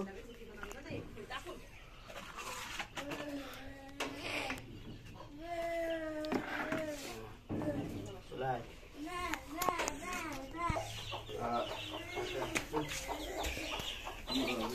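Chickens cluck repeatedly close by in a farmyard, their calls mixed with children's voices and chatter throughout.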